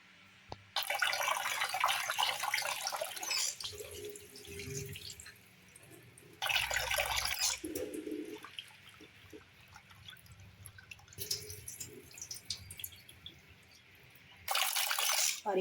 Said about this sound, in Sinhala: පරිප්පු හොදද්දි හොඳට 3-4 පාරක් හොදන්න ඕනේ.